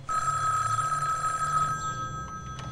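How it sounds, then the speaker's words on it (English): A telephone bell rings loudly and close in one sustained trill that cuts off after under two seconds, followed by faint, brief electronic tones. "Hey, that's my phone, Gulliver."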